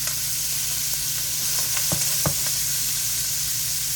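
Shrimp fry in a hot pan of olive oil and butter, a loud continuous sizzle up close with a few sharp pops and stirring clicks, steady throughout with no talk.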